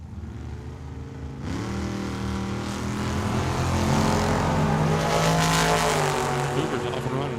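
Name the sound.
drag race run, dragster and Cougar at Tucson Dragway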